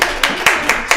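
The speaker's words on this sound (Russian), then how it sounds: "давайте встретим бурными аплодисментами, да, всех, кто к нам идет" A small crowd at a school library hackathon claps to welcome the participants, sounding as a few distinct, evenly spaced claps close by with no talking.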